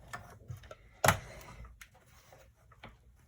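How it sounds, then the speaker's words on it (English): Close clicking and ticking from a Stamp and Cut and Emboss Mini die-cutting machine as a platform is cranked through it, with one louder snap partway through and a quieter ratcheting texture around it. "And I'm going to run this through. Stamp and Cut and Emboss Mini."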